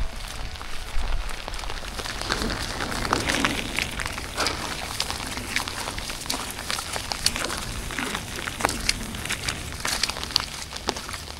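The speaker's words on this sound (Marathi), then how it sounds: "तुफान पाऊस चालू आहे" Heavy rain pouring outdoors on a foggy plateau in the Sahyadri hills, a dense, continuous hiss with scattered close drops pattering on nearby surfaces, no voices.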